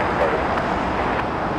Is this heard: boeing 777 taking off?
yes